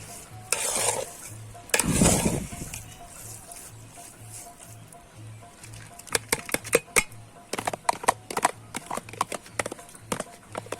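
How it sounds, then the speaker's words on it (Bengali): Ghee-fried onions (beresta) being stirred into village-style kosha pulao of gobindobhog rice, with bursts of scraping and stirring early on, then a run of sharp, close clicks and clatters against the pot over a faint rhythmic background hum. "এবার বেরেস্তাটা দিয়ে দিচ্ছি কষা পোলাওয়ে"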